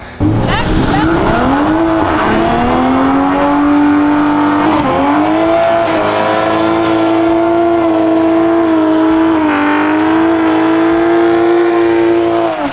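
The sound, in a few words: Toyota MK5 Supra with HKS catback exhaust revving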